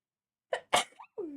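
A single short sneeze, sharp and close, breaking a silence and followed by a brief voiced exhale.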